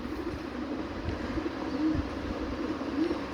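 Soft, low pigeon coos repeat a few times against a steady background hum, fairly close but not loud.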